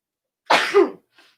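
One person sneezes once, a sharp burst followed by a brief faint exhale, close and alone in a quiet room.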